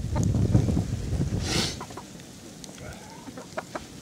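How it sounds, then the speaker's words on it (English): Chickens cluck repeatedly and close by as they are herded up a ladder into shelter during a storm, with louder rumbling at the start and softer scattered clucks and chirps afterward. "Come on, chickens."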